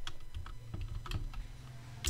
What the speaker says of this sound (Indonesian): keyboard dulu kita tuliskan dulu